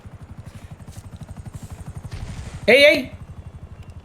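A helicopter in GTA 5 Online thumps with a steady, rapid rotor chop throughout a sniper battle. A person briefly shouts, and a sharp loud burst cuts through near the end.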